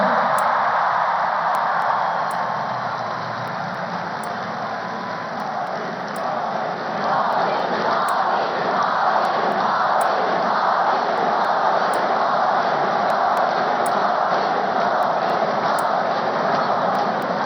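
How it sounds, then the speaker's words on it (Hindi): A large crowd at a political rally chants in a steady, rhythmic roar that carries on unbroken, loud and massed, with no single voice standing out. "ये मोदी मोदी की गूंज आज भारत में नहीं, दुनिया के कोने कोने में है"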